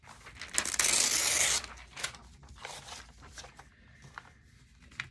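Paper pictures being cut out of a fall catalog for a gluebook: a loud, dense rasping burst of cutting and tearing early on, then quieter intermittent crinkles and snips of paper handling.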